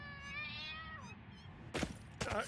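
A single plaintive meow with a falling tail from a cat in the video game Satisfactory, then a couple of short noisy bursts of rustling or movement.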